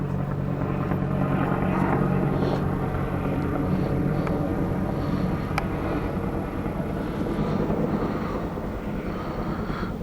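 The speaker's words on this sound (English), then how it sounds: "This helicopters keep circling around the house." Steady loud rotor drone of a military or sheriff's department helicopter circling overhead, continuous throughout with wind buffeting the microphone.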